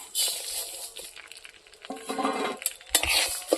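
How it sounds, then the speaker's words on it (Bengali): Mung dal frying in a little oil in a hot wok, heard as bursts of sizzling and scraping stirring with metallic clinks of a utensil against the pan, uneven and close. "ডালটাকে আমি এইভাবে হালকা তেলের মধ্যে ভাজি নিব।"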